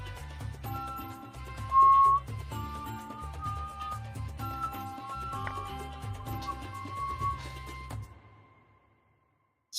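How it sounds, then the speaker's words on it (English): A person whistles a tune over about eight seconds during an online chess simul, steady melodic tones carrying close and clear with no talk, then fading to near silence at the end. "Sorry, I apologize for whistling."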